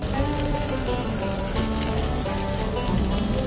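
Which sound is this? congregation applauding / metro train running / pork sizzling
pork sizzling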